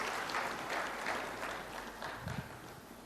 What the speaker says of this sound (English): Can we have a bit of applause?